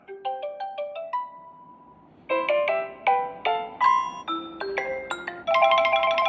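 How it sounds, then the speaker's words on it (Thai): The default LINE app incoming-call ringtone plays alone and up close: short bright chiming melodic phrases, a brief held tone, then a denser run of rapid electronic notes. "เสียงเรียกเข้าก็คือ เวลาที่มีคนโทรมาหาเรา"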